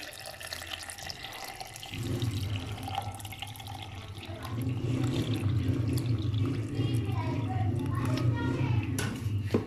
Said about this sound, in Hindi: इसके अंदर मैं तकरीबन जो है 3 ग्लास पानी ऐड कर रही